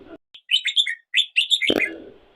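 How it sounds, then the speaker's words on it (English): A bulbul calls in a run of bright, quick chirps and warbled notes, clear and fairly close, followed by a short rustling thump at the end; no talking. "Bulbul."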